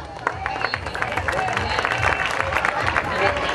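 An audience at a comedy stage performance in a chawl gives scattered claps, a sparse patter of sharp hand slaps over murmuring crowd noise with some voices.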